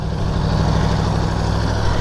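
A 2019 Aprilia Tuono Factory motorcycle engine runs at a steady, loud idle close by, a continuous low rumble with no revving and no talk.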